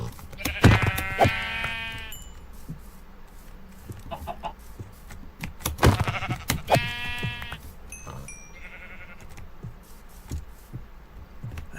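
Sheep in the Minecraft video game bleat in several short wavering calls, loud and close, spaced a few seconds apart with brief pauses between them, and clucking from nearby chickens is mixed in.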